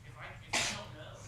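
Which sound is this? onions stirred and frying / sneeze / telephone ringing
sneeze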